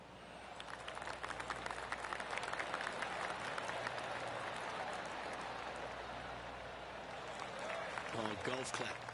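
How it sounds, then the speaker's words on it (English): A gallery crowd gives a soft, sustained golf clap in the video game PGA Tour 2K25, steady patter of many hands with a voice speaking over it near the end. "Oh, golf clap."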